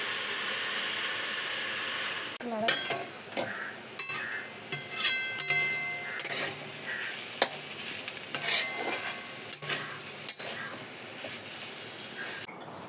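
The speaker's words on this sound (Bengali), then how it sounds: "খুলে খুলেই ভেজে নিতে হবে, ঢাকা দিলে জল ছেড়ে যাবে" Cabbage fries uncovered in a pan and is stirred slowly, with a steady hiss and sizzle and repeated close scrapes and taps of a spatula against the pan.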